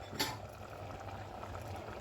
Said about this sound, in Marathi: उकळ आली आहे.